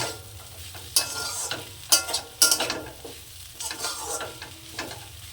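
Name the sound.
red spinach with fish roe frying in pan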